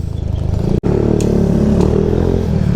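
Motorcycle engine running steadily at close range with a throaty low rumble, cutting out for a split second before the throttle picks back up, with a couple of faint clicks on top.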